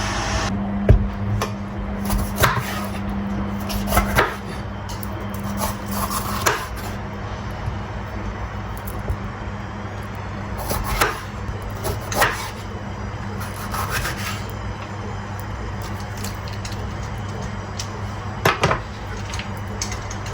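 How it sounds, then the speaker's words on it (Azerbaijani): A washing machine runs with a steady low mechanical hum, broken by irregular rubbing and knocking as the drum turns. "Kısaca o səslər maşınkamızın səsidir, paltarmiyanın"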